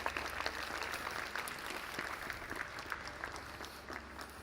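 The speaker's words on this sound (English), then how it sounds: "All right, round of applause for Valentin." An audience at a JuliaCon 2024 conference session gives Valentin a round of applause, a fairly faint, steady wash of many hands clapping throughout, with no speech.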